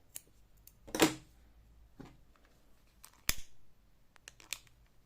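Scissors snip through crochet yarn while finishing a knitted pumpkin-shaped bag, giving a few sharp, close clicks spread across a quiet room with no talking.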